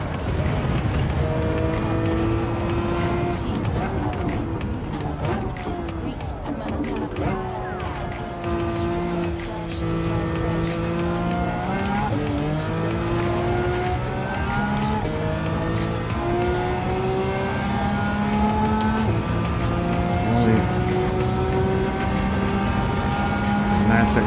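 Lamborghini Aventador V12 engine in Gran Turismo 7 roaring steadily through the whole stretch, loud and close, with pitch climbing and dropping through gear shifts and occasional tire squeal.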